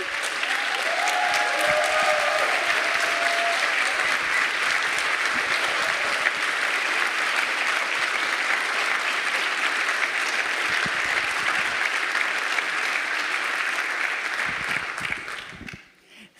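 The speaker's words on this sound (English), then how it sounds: "And this is your applause." A conference audience gives sustained, even applause for a group of changemakers, a dense wash of clapping that holds steady for many seconds before fading quickly at the end.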